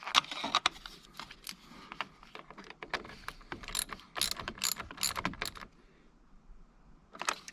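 A ratchet with a 10mm socket tightens a fastener while a car headlight is changed. Rapid bursts of close mechanical clicking come in quick strokes with short pauses and no talking.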